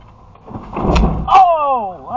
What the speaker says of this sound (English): They opening the door